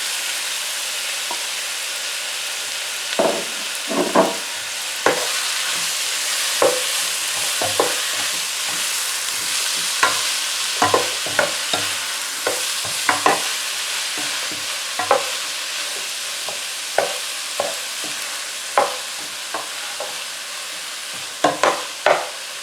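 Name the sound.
pumpkin and onions frying in a pan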